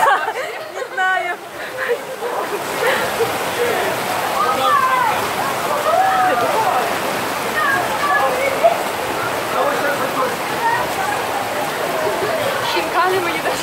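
Floodwater rushes through the streets of Tbilisi as a steady, loud roar, while several people talk and chatter nearby throughout.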